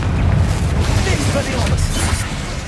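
A Confringo blast spell goes off in Hogwarts Legacy as a loud, dense boom with crackling burst energy that fills the whole moment, with voices over it.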